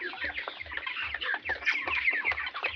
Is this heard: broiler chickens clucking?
yes